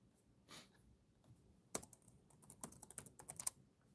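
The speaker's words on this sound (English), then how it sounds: "Now I'm just typing things in." Bursts of computer keyboard typing, quiet and close, with a brief rustle early on and then a run of irregular key clicks growing denser toward the end, no talking.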